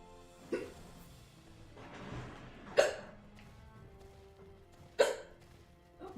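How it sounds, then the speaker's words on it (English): Three sharp, isolated hiccups break a quiet room, spaced a couple of seconds apart, close and distinct with faint background noise between them. "now I got the hiccups."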